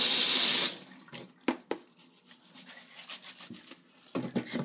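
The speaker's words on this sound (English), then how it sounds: "Put some water on it." Tap water gushes loudly into a cooking pot for under a second, then stops, followed by scattered knocks, splashes and handling clatter.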